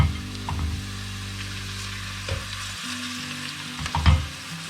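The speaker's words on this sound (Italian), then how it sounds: "andiamo a mettere i nostri pezzetti di agnello, vedete? E li facciamo rosolare per bene." Pieces of lamb browning with softened vegetables in a pot for a Sicilian lamb stew, a steady close sizzle with a few clunks and scrapes of stirring.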